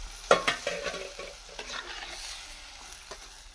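Vegetables frying in a pan while being stirred, with a soft steady sizzle broken by scraping strokes and a few louder clinks of the utensil against the pan, heard fairly close and without talk.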